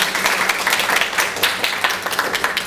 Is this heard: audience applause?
yes